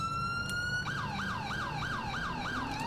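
Police car siren in the video game GTA with the LCPDFR mod: a steady high tone, then a rapid rising-falling wail repeating about every third of a second, loud and close with a low vehicle rumble beneath.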